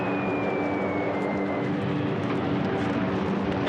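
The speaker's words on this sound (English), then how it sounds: "The planes are here. All the noise." World War II aircraft passing overhead in a wartime attack scene, a continuous loud engine roar with a slowly falling whine, steady and near with no talk.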